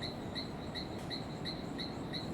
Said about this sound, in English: And these frogs and the birds and the rapids